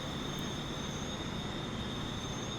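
Train rolling along upgraded tracks in Transport Fever 2, a steady continuous rumble with a faint high whine running throughout, even and unbroken at moderate level.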